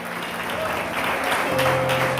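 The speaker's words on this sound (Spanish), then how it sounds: "Denle un aplauso al Señor esta gloriosa mañana" A church congregation breaks into sustained, dense applause during a Spanish-language service, close and full, with some voices mixed into the clapping.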